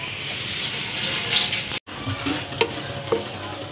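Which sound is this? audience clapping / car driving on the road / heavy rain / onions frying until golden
onions frying until golden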